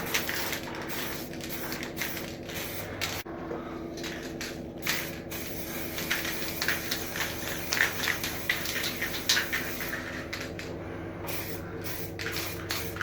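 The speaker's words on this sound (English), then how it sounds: "This will be the third coat of spray lacquer." Spray lacquer hisses in short and long pulses over a steady mechanical hum, close by, with brief pauses between passes, applying a third clear coat on a Green Ranger Dragon Armour costume piece.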